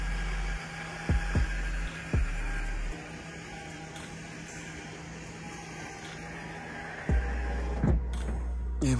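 Electric pop-up roof on a JCG Créations V7 camper van lowering, a low motor hum running steadily with a few soft thumps and clicks as the mechanism moves and stops.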